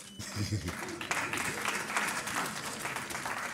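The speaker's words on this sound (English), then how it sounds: "And I see my daughter also clapping" An audience at a university professorial inauguration claps, a sustained wash of applause heard under someone speaking into a microphone.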